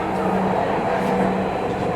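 A Dhaka Metro Rail train on the Motijheel to Uttara line pulls away from a station, giving a loud, even rumble heard from inside the carriage.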